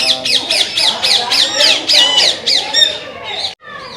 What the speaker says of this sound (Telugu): ఇక్కడ రామచిలుకలు ఉన్నాయి, వీటిని చూసుకుంటూ ముందుకు వెళ్తా ఉన్నాం